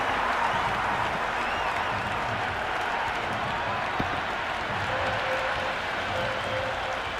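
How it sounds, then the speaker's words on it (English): Steady, dense applause and crowd noise from a cricket stadium crowd after a boundary four in an India vs South Africa T20 match, a continuous wash of clapping with no clear peaks. "The crowd love that one."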